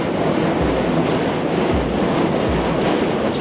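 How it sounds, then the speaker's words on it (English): An elevated New York City subway train crosses the Manhattan Bridge overhead, giving a loud, steady roar with rhythmic clickety-clack of wheels over rail joints repeating about once a second. "That's a subway passing above."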